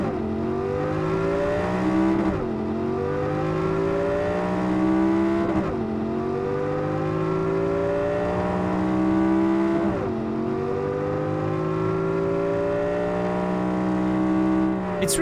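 A car engine in Cyberpunk 2077 revs high and steady, its pitch climbing then dropping sharply at each gear shift, three times in a row, loud and continuous.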